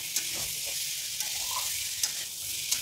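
Browned methi kadima sabzi stirred in a pan over steady sizzling, with a few soft scrapes of the spoon poking out of the frying hiss.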